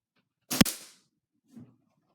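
A modified Nerf blaster firing airsoft BBs gives one sharp, loud crack followed by a fainter short clatter about a second later, with no talking.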